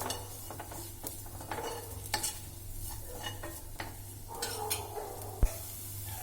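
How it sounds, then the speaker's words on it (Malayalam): Garam masala and chicken masala powder being stirred in a frying pan on a steady low hum, with soft scraping strokes, light sizzle and a sharp utensil clink near the end. "കുറച്ച് ഗരം മസാല പൊടികളുടെ പച്ച ടേസ്റ്റ് മാറുന്നവരേക്കും ഇളക്കി കൊടുക്കാം"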